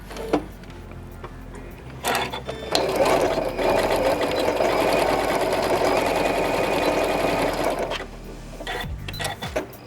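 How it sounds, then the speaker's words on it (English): A sewing machine stitches a zigzag seam on a homemade fabric face mask, a fast rhythmic mechanical chatter that runs steadily for several seconds between a few short starts and stops. "I would just use a zigzag stitch here and just get it securely stitched."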